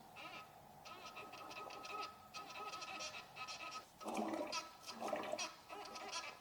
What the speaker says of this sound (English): That is the loudest water pump that I've seen.